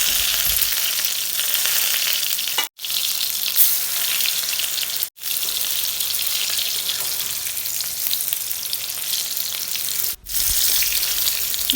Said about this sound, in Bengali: এপাশ ওপাশ ভাজতে হবে